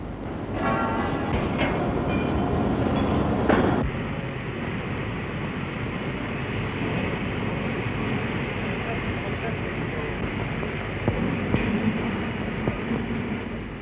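Steam locomotive standing at a depot while crew prepare it for a run, with a steady low rumble and hiss throughout, a busier clanking burst near the start and a few faint knocks later, with a voice narrating over it.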